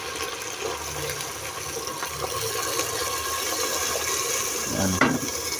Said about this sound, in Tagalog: Lagyan natin tubig guys, kung natuyuan to.